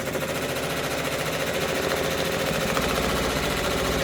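An embroidery sewing machine stitching a placement line for a freestanding quilt block pumpkin, a loud, steady, rapid mechanical whir and tapping running continuously up close with no talk.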